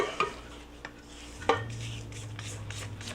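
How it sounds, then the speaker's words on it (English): A spatula scraping a mixer beater and then the mixing bowl for a spice cake batter, a few sharp knocks and clinks followed by soft rhythmic scraping strokes, close by. "scrape off my beater real quick, and then scrape my bowl once again"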